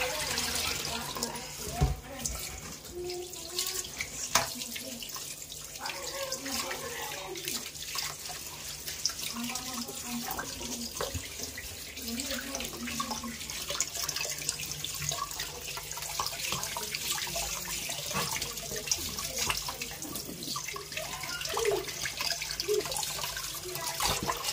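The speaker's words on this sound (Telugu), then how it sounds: "సో మనం ఇప్పుడు నీళ్ళల్లో శుభ్రంగా కడుక్కోవాలి." Water runs from a tap while things are washed by hand, a faint steady splashing and trickling close by, with people talking quietly over it.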